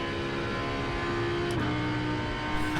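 Audi GT3 race car engine in the iRacing simulator, a steady loud drone holding a near constant pitch with a slight drop, continuous and alone.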